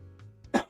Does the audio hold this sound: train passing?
no